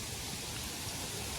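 A river in the Konkan countryside runs high after heavy rain, its water producing a constant, even rushing roar with no distinct splashes or voices.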